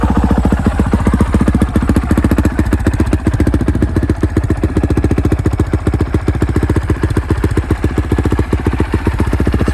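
A 2019 Honda CRF450RWE motocross bike idles with a loud, fast, steady thumping beat, close by and unbroken, with no voices.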